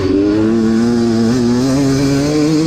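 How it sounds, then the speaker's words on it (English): Dirt bike engine in a sprint cross-country race on a field course, revving loud and close with a sustained, wavering throttle whine and no talk over it. "You can just twist that throttle just a little bit freaking harder."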